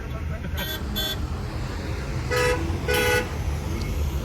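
Road traffic passing on a highway during a drive, with a car horn tooting twice briefly near the start and two longer honks later, over a steady low rumble of vehicles and engine noise.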